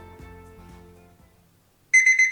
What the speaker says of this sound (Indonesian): tidak mengeluarkan suara azan, tapi hanya mengeluarkan suara bip bip bip